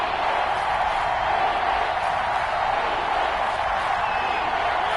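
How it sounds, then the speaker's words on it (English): A stadium crowd roars steadily at an NFL Saints football game near the goal line, a dense, continuous wash of cheering and noise at a constant loud level with no single voice standing out. "That just means this crowd's going to get even louder"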